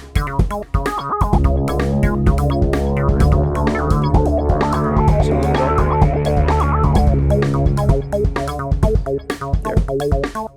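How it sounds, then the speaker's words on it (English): A full music mix plays with crisp, steady hi-hat ticks on top, lightly brightened by a shimmering effect that adds sheen to the high end. "Now that's the hi-hat slightly sweetened."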